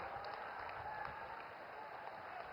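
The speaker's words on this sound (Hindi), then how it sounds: "एक बार जोरदार तालियां बजनी चाहिए।" Faint, distant applause from a crowd at a public event welcoming the Prime Minister, a dense, even wash of clapping with a thin high hum running over it.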